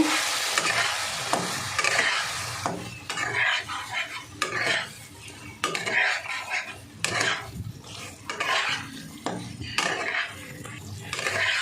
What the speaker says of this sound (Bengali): এবার আমি এর মধ্যে সসটা ঢেলে দেবো, যে সসটা করে রেখেছিলাম সেই সসটা ঢেলে দেবো, মিশিয়ে দেব।